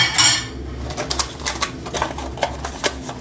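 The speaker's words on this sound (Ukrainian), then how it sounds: "і заливаю окропом. Бачите, як воно шумить." A fizzing, crackling hiss with scattered sharp clinks and pops, steady and close, as boiling water is poured over a tablespoon of baking soda and bubbles up.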